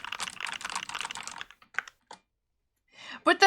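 Fast clacky typing on a computer keyboard, a dense burst of close, crisp key clicks, then a few scattered taps, a pause and another short flurry.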